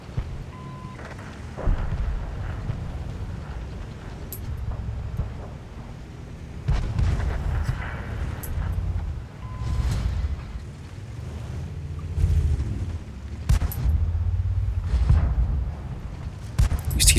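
Tank cannons fire during a World of Tanks match. Several heavy booms land every few seconds over a low, rumbling background.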